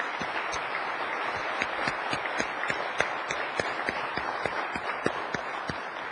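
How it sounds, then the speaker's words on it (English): Audience applause at a closing session of an IBM conference on Africa, a broad wash of clapping with distinct sharp claps standing out, steady and moderately loud throughout without talk. "I'd like Mark and Robert to please stand and receive our applause."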